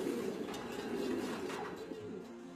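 Taiwanese racing pigeons coo softly inside mating cages, a low steady murmuring that runs continuously under a faint background hiss.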